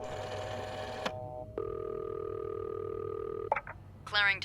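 Telephone in a video game: a short burst of dial tones, then a long steady ringback tone, followed by a few clicks and a brief chirpy electronic sound at the end, heard clearly without talk.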